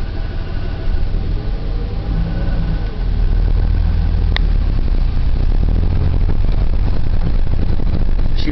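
A 1990 Ford F-150 pickup with the 4.9L six-cylinder engine runs steadily, a loud low rumbling drone that picks up slightly partway through, heard alone with no talking.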